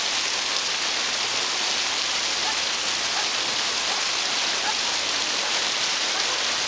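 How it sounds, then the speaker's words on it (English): Heavy rain pours down on an unpaved dirt road during a storm in Cajamarca, a dense, unbroken hiss of countless drops that holds steady and loud throughout. "Massive, massive downpour."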